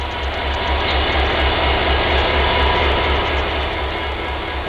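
Diesel locomotive with an empty log train in Elk Valley, a loud, steady low-pitched engine drone with a rhythmic pulsing undertone and rolling wheel noise, close by throughout.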